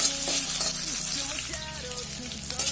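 Capsicum and baby corn fry together in a pan for crispy baby corn Manchurian, giving a steady, close hiss and crackle that runs the full length with a faint tonal hum beneath.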